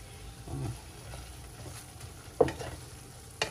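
Quiet sizzling of anchovies in a hot pan with faint crackles, broken by a couple of sharp clinks of a utensil.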